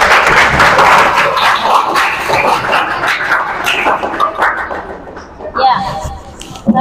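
A classroom of students applauding, a loud close burst of scattered clapping with voices mixed in, fading unevenly over several seconds with a few sharp claps near the end.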